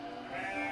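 A sheep gives a single short bleat, faint and somewhat distant, outdoors on the way up a hillside pasture.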